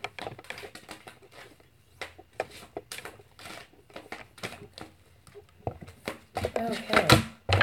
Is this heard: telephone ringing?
no